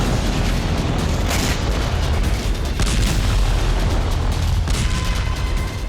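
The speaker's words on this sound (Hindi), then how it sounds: "कीव में मिसाइल हमले के दौरान कई धमाके हुए" Missile strikes on a densely built-up Kyiv neighbourhood of tall buildings, heard as a loud, continuous barrage of deep booms and rumbling blasts that fills the whole stretch without pause.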